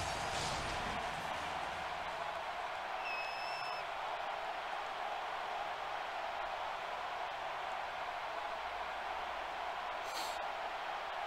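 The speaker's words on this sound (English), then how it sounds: "boy, you can hear that crowd. They are pumped up about this game." A simulated crowd in a video game football stadium before the opening kickoff keeps up a dense, steady roar that stays loud and even from start to finish, with no voices.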